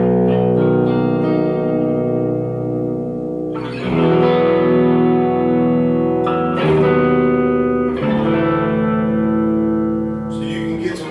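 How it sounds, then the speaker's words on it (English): Sustained electric guitar notes and chords ring out one after another through a Tech 21 FlyRig 5 pedal, with a fairly clean, slightly processed tone and lingering sustain. "you can hear a little bit of what the clean tone of this pedal sounds like"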